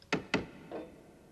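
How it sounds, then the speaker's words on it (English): A gentle tap on a chamber door: two quick, close wooden knocks followed by a softer third tap, quiet and alone. "what should hap at the chamber door but a gentle tap?"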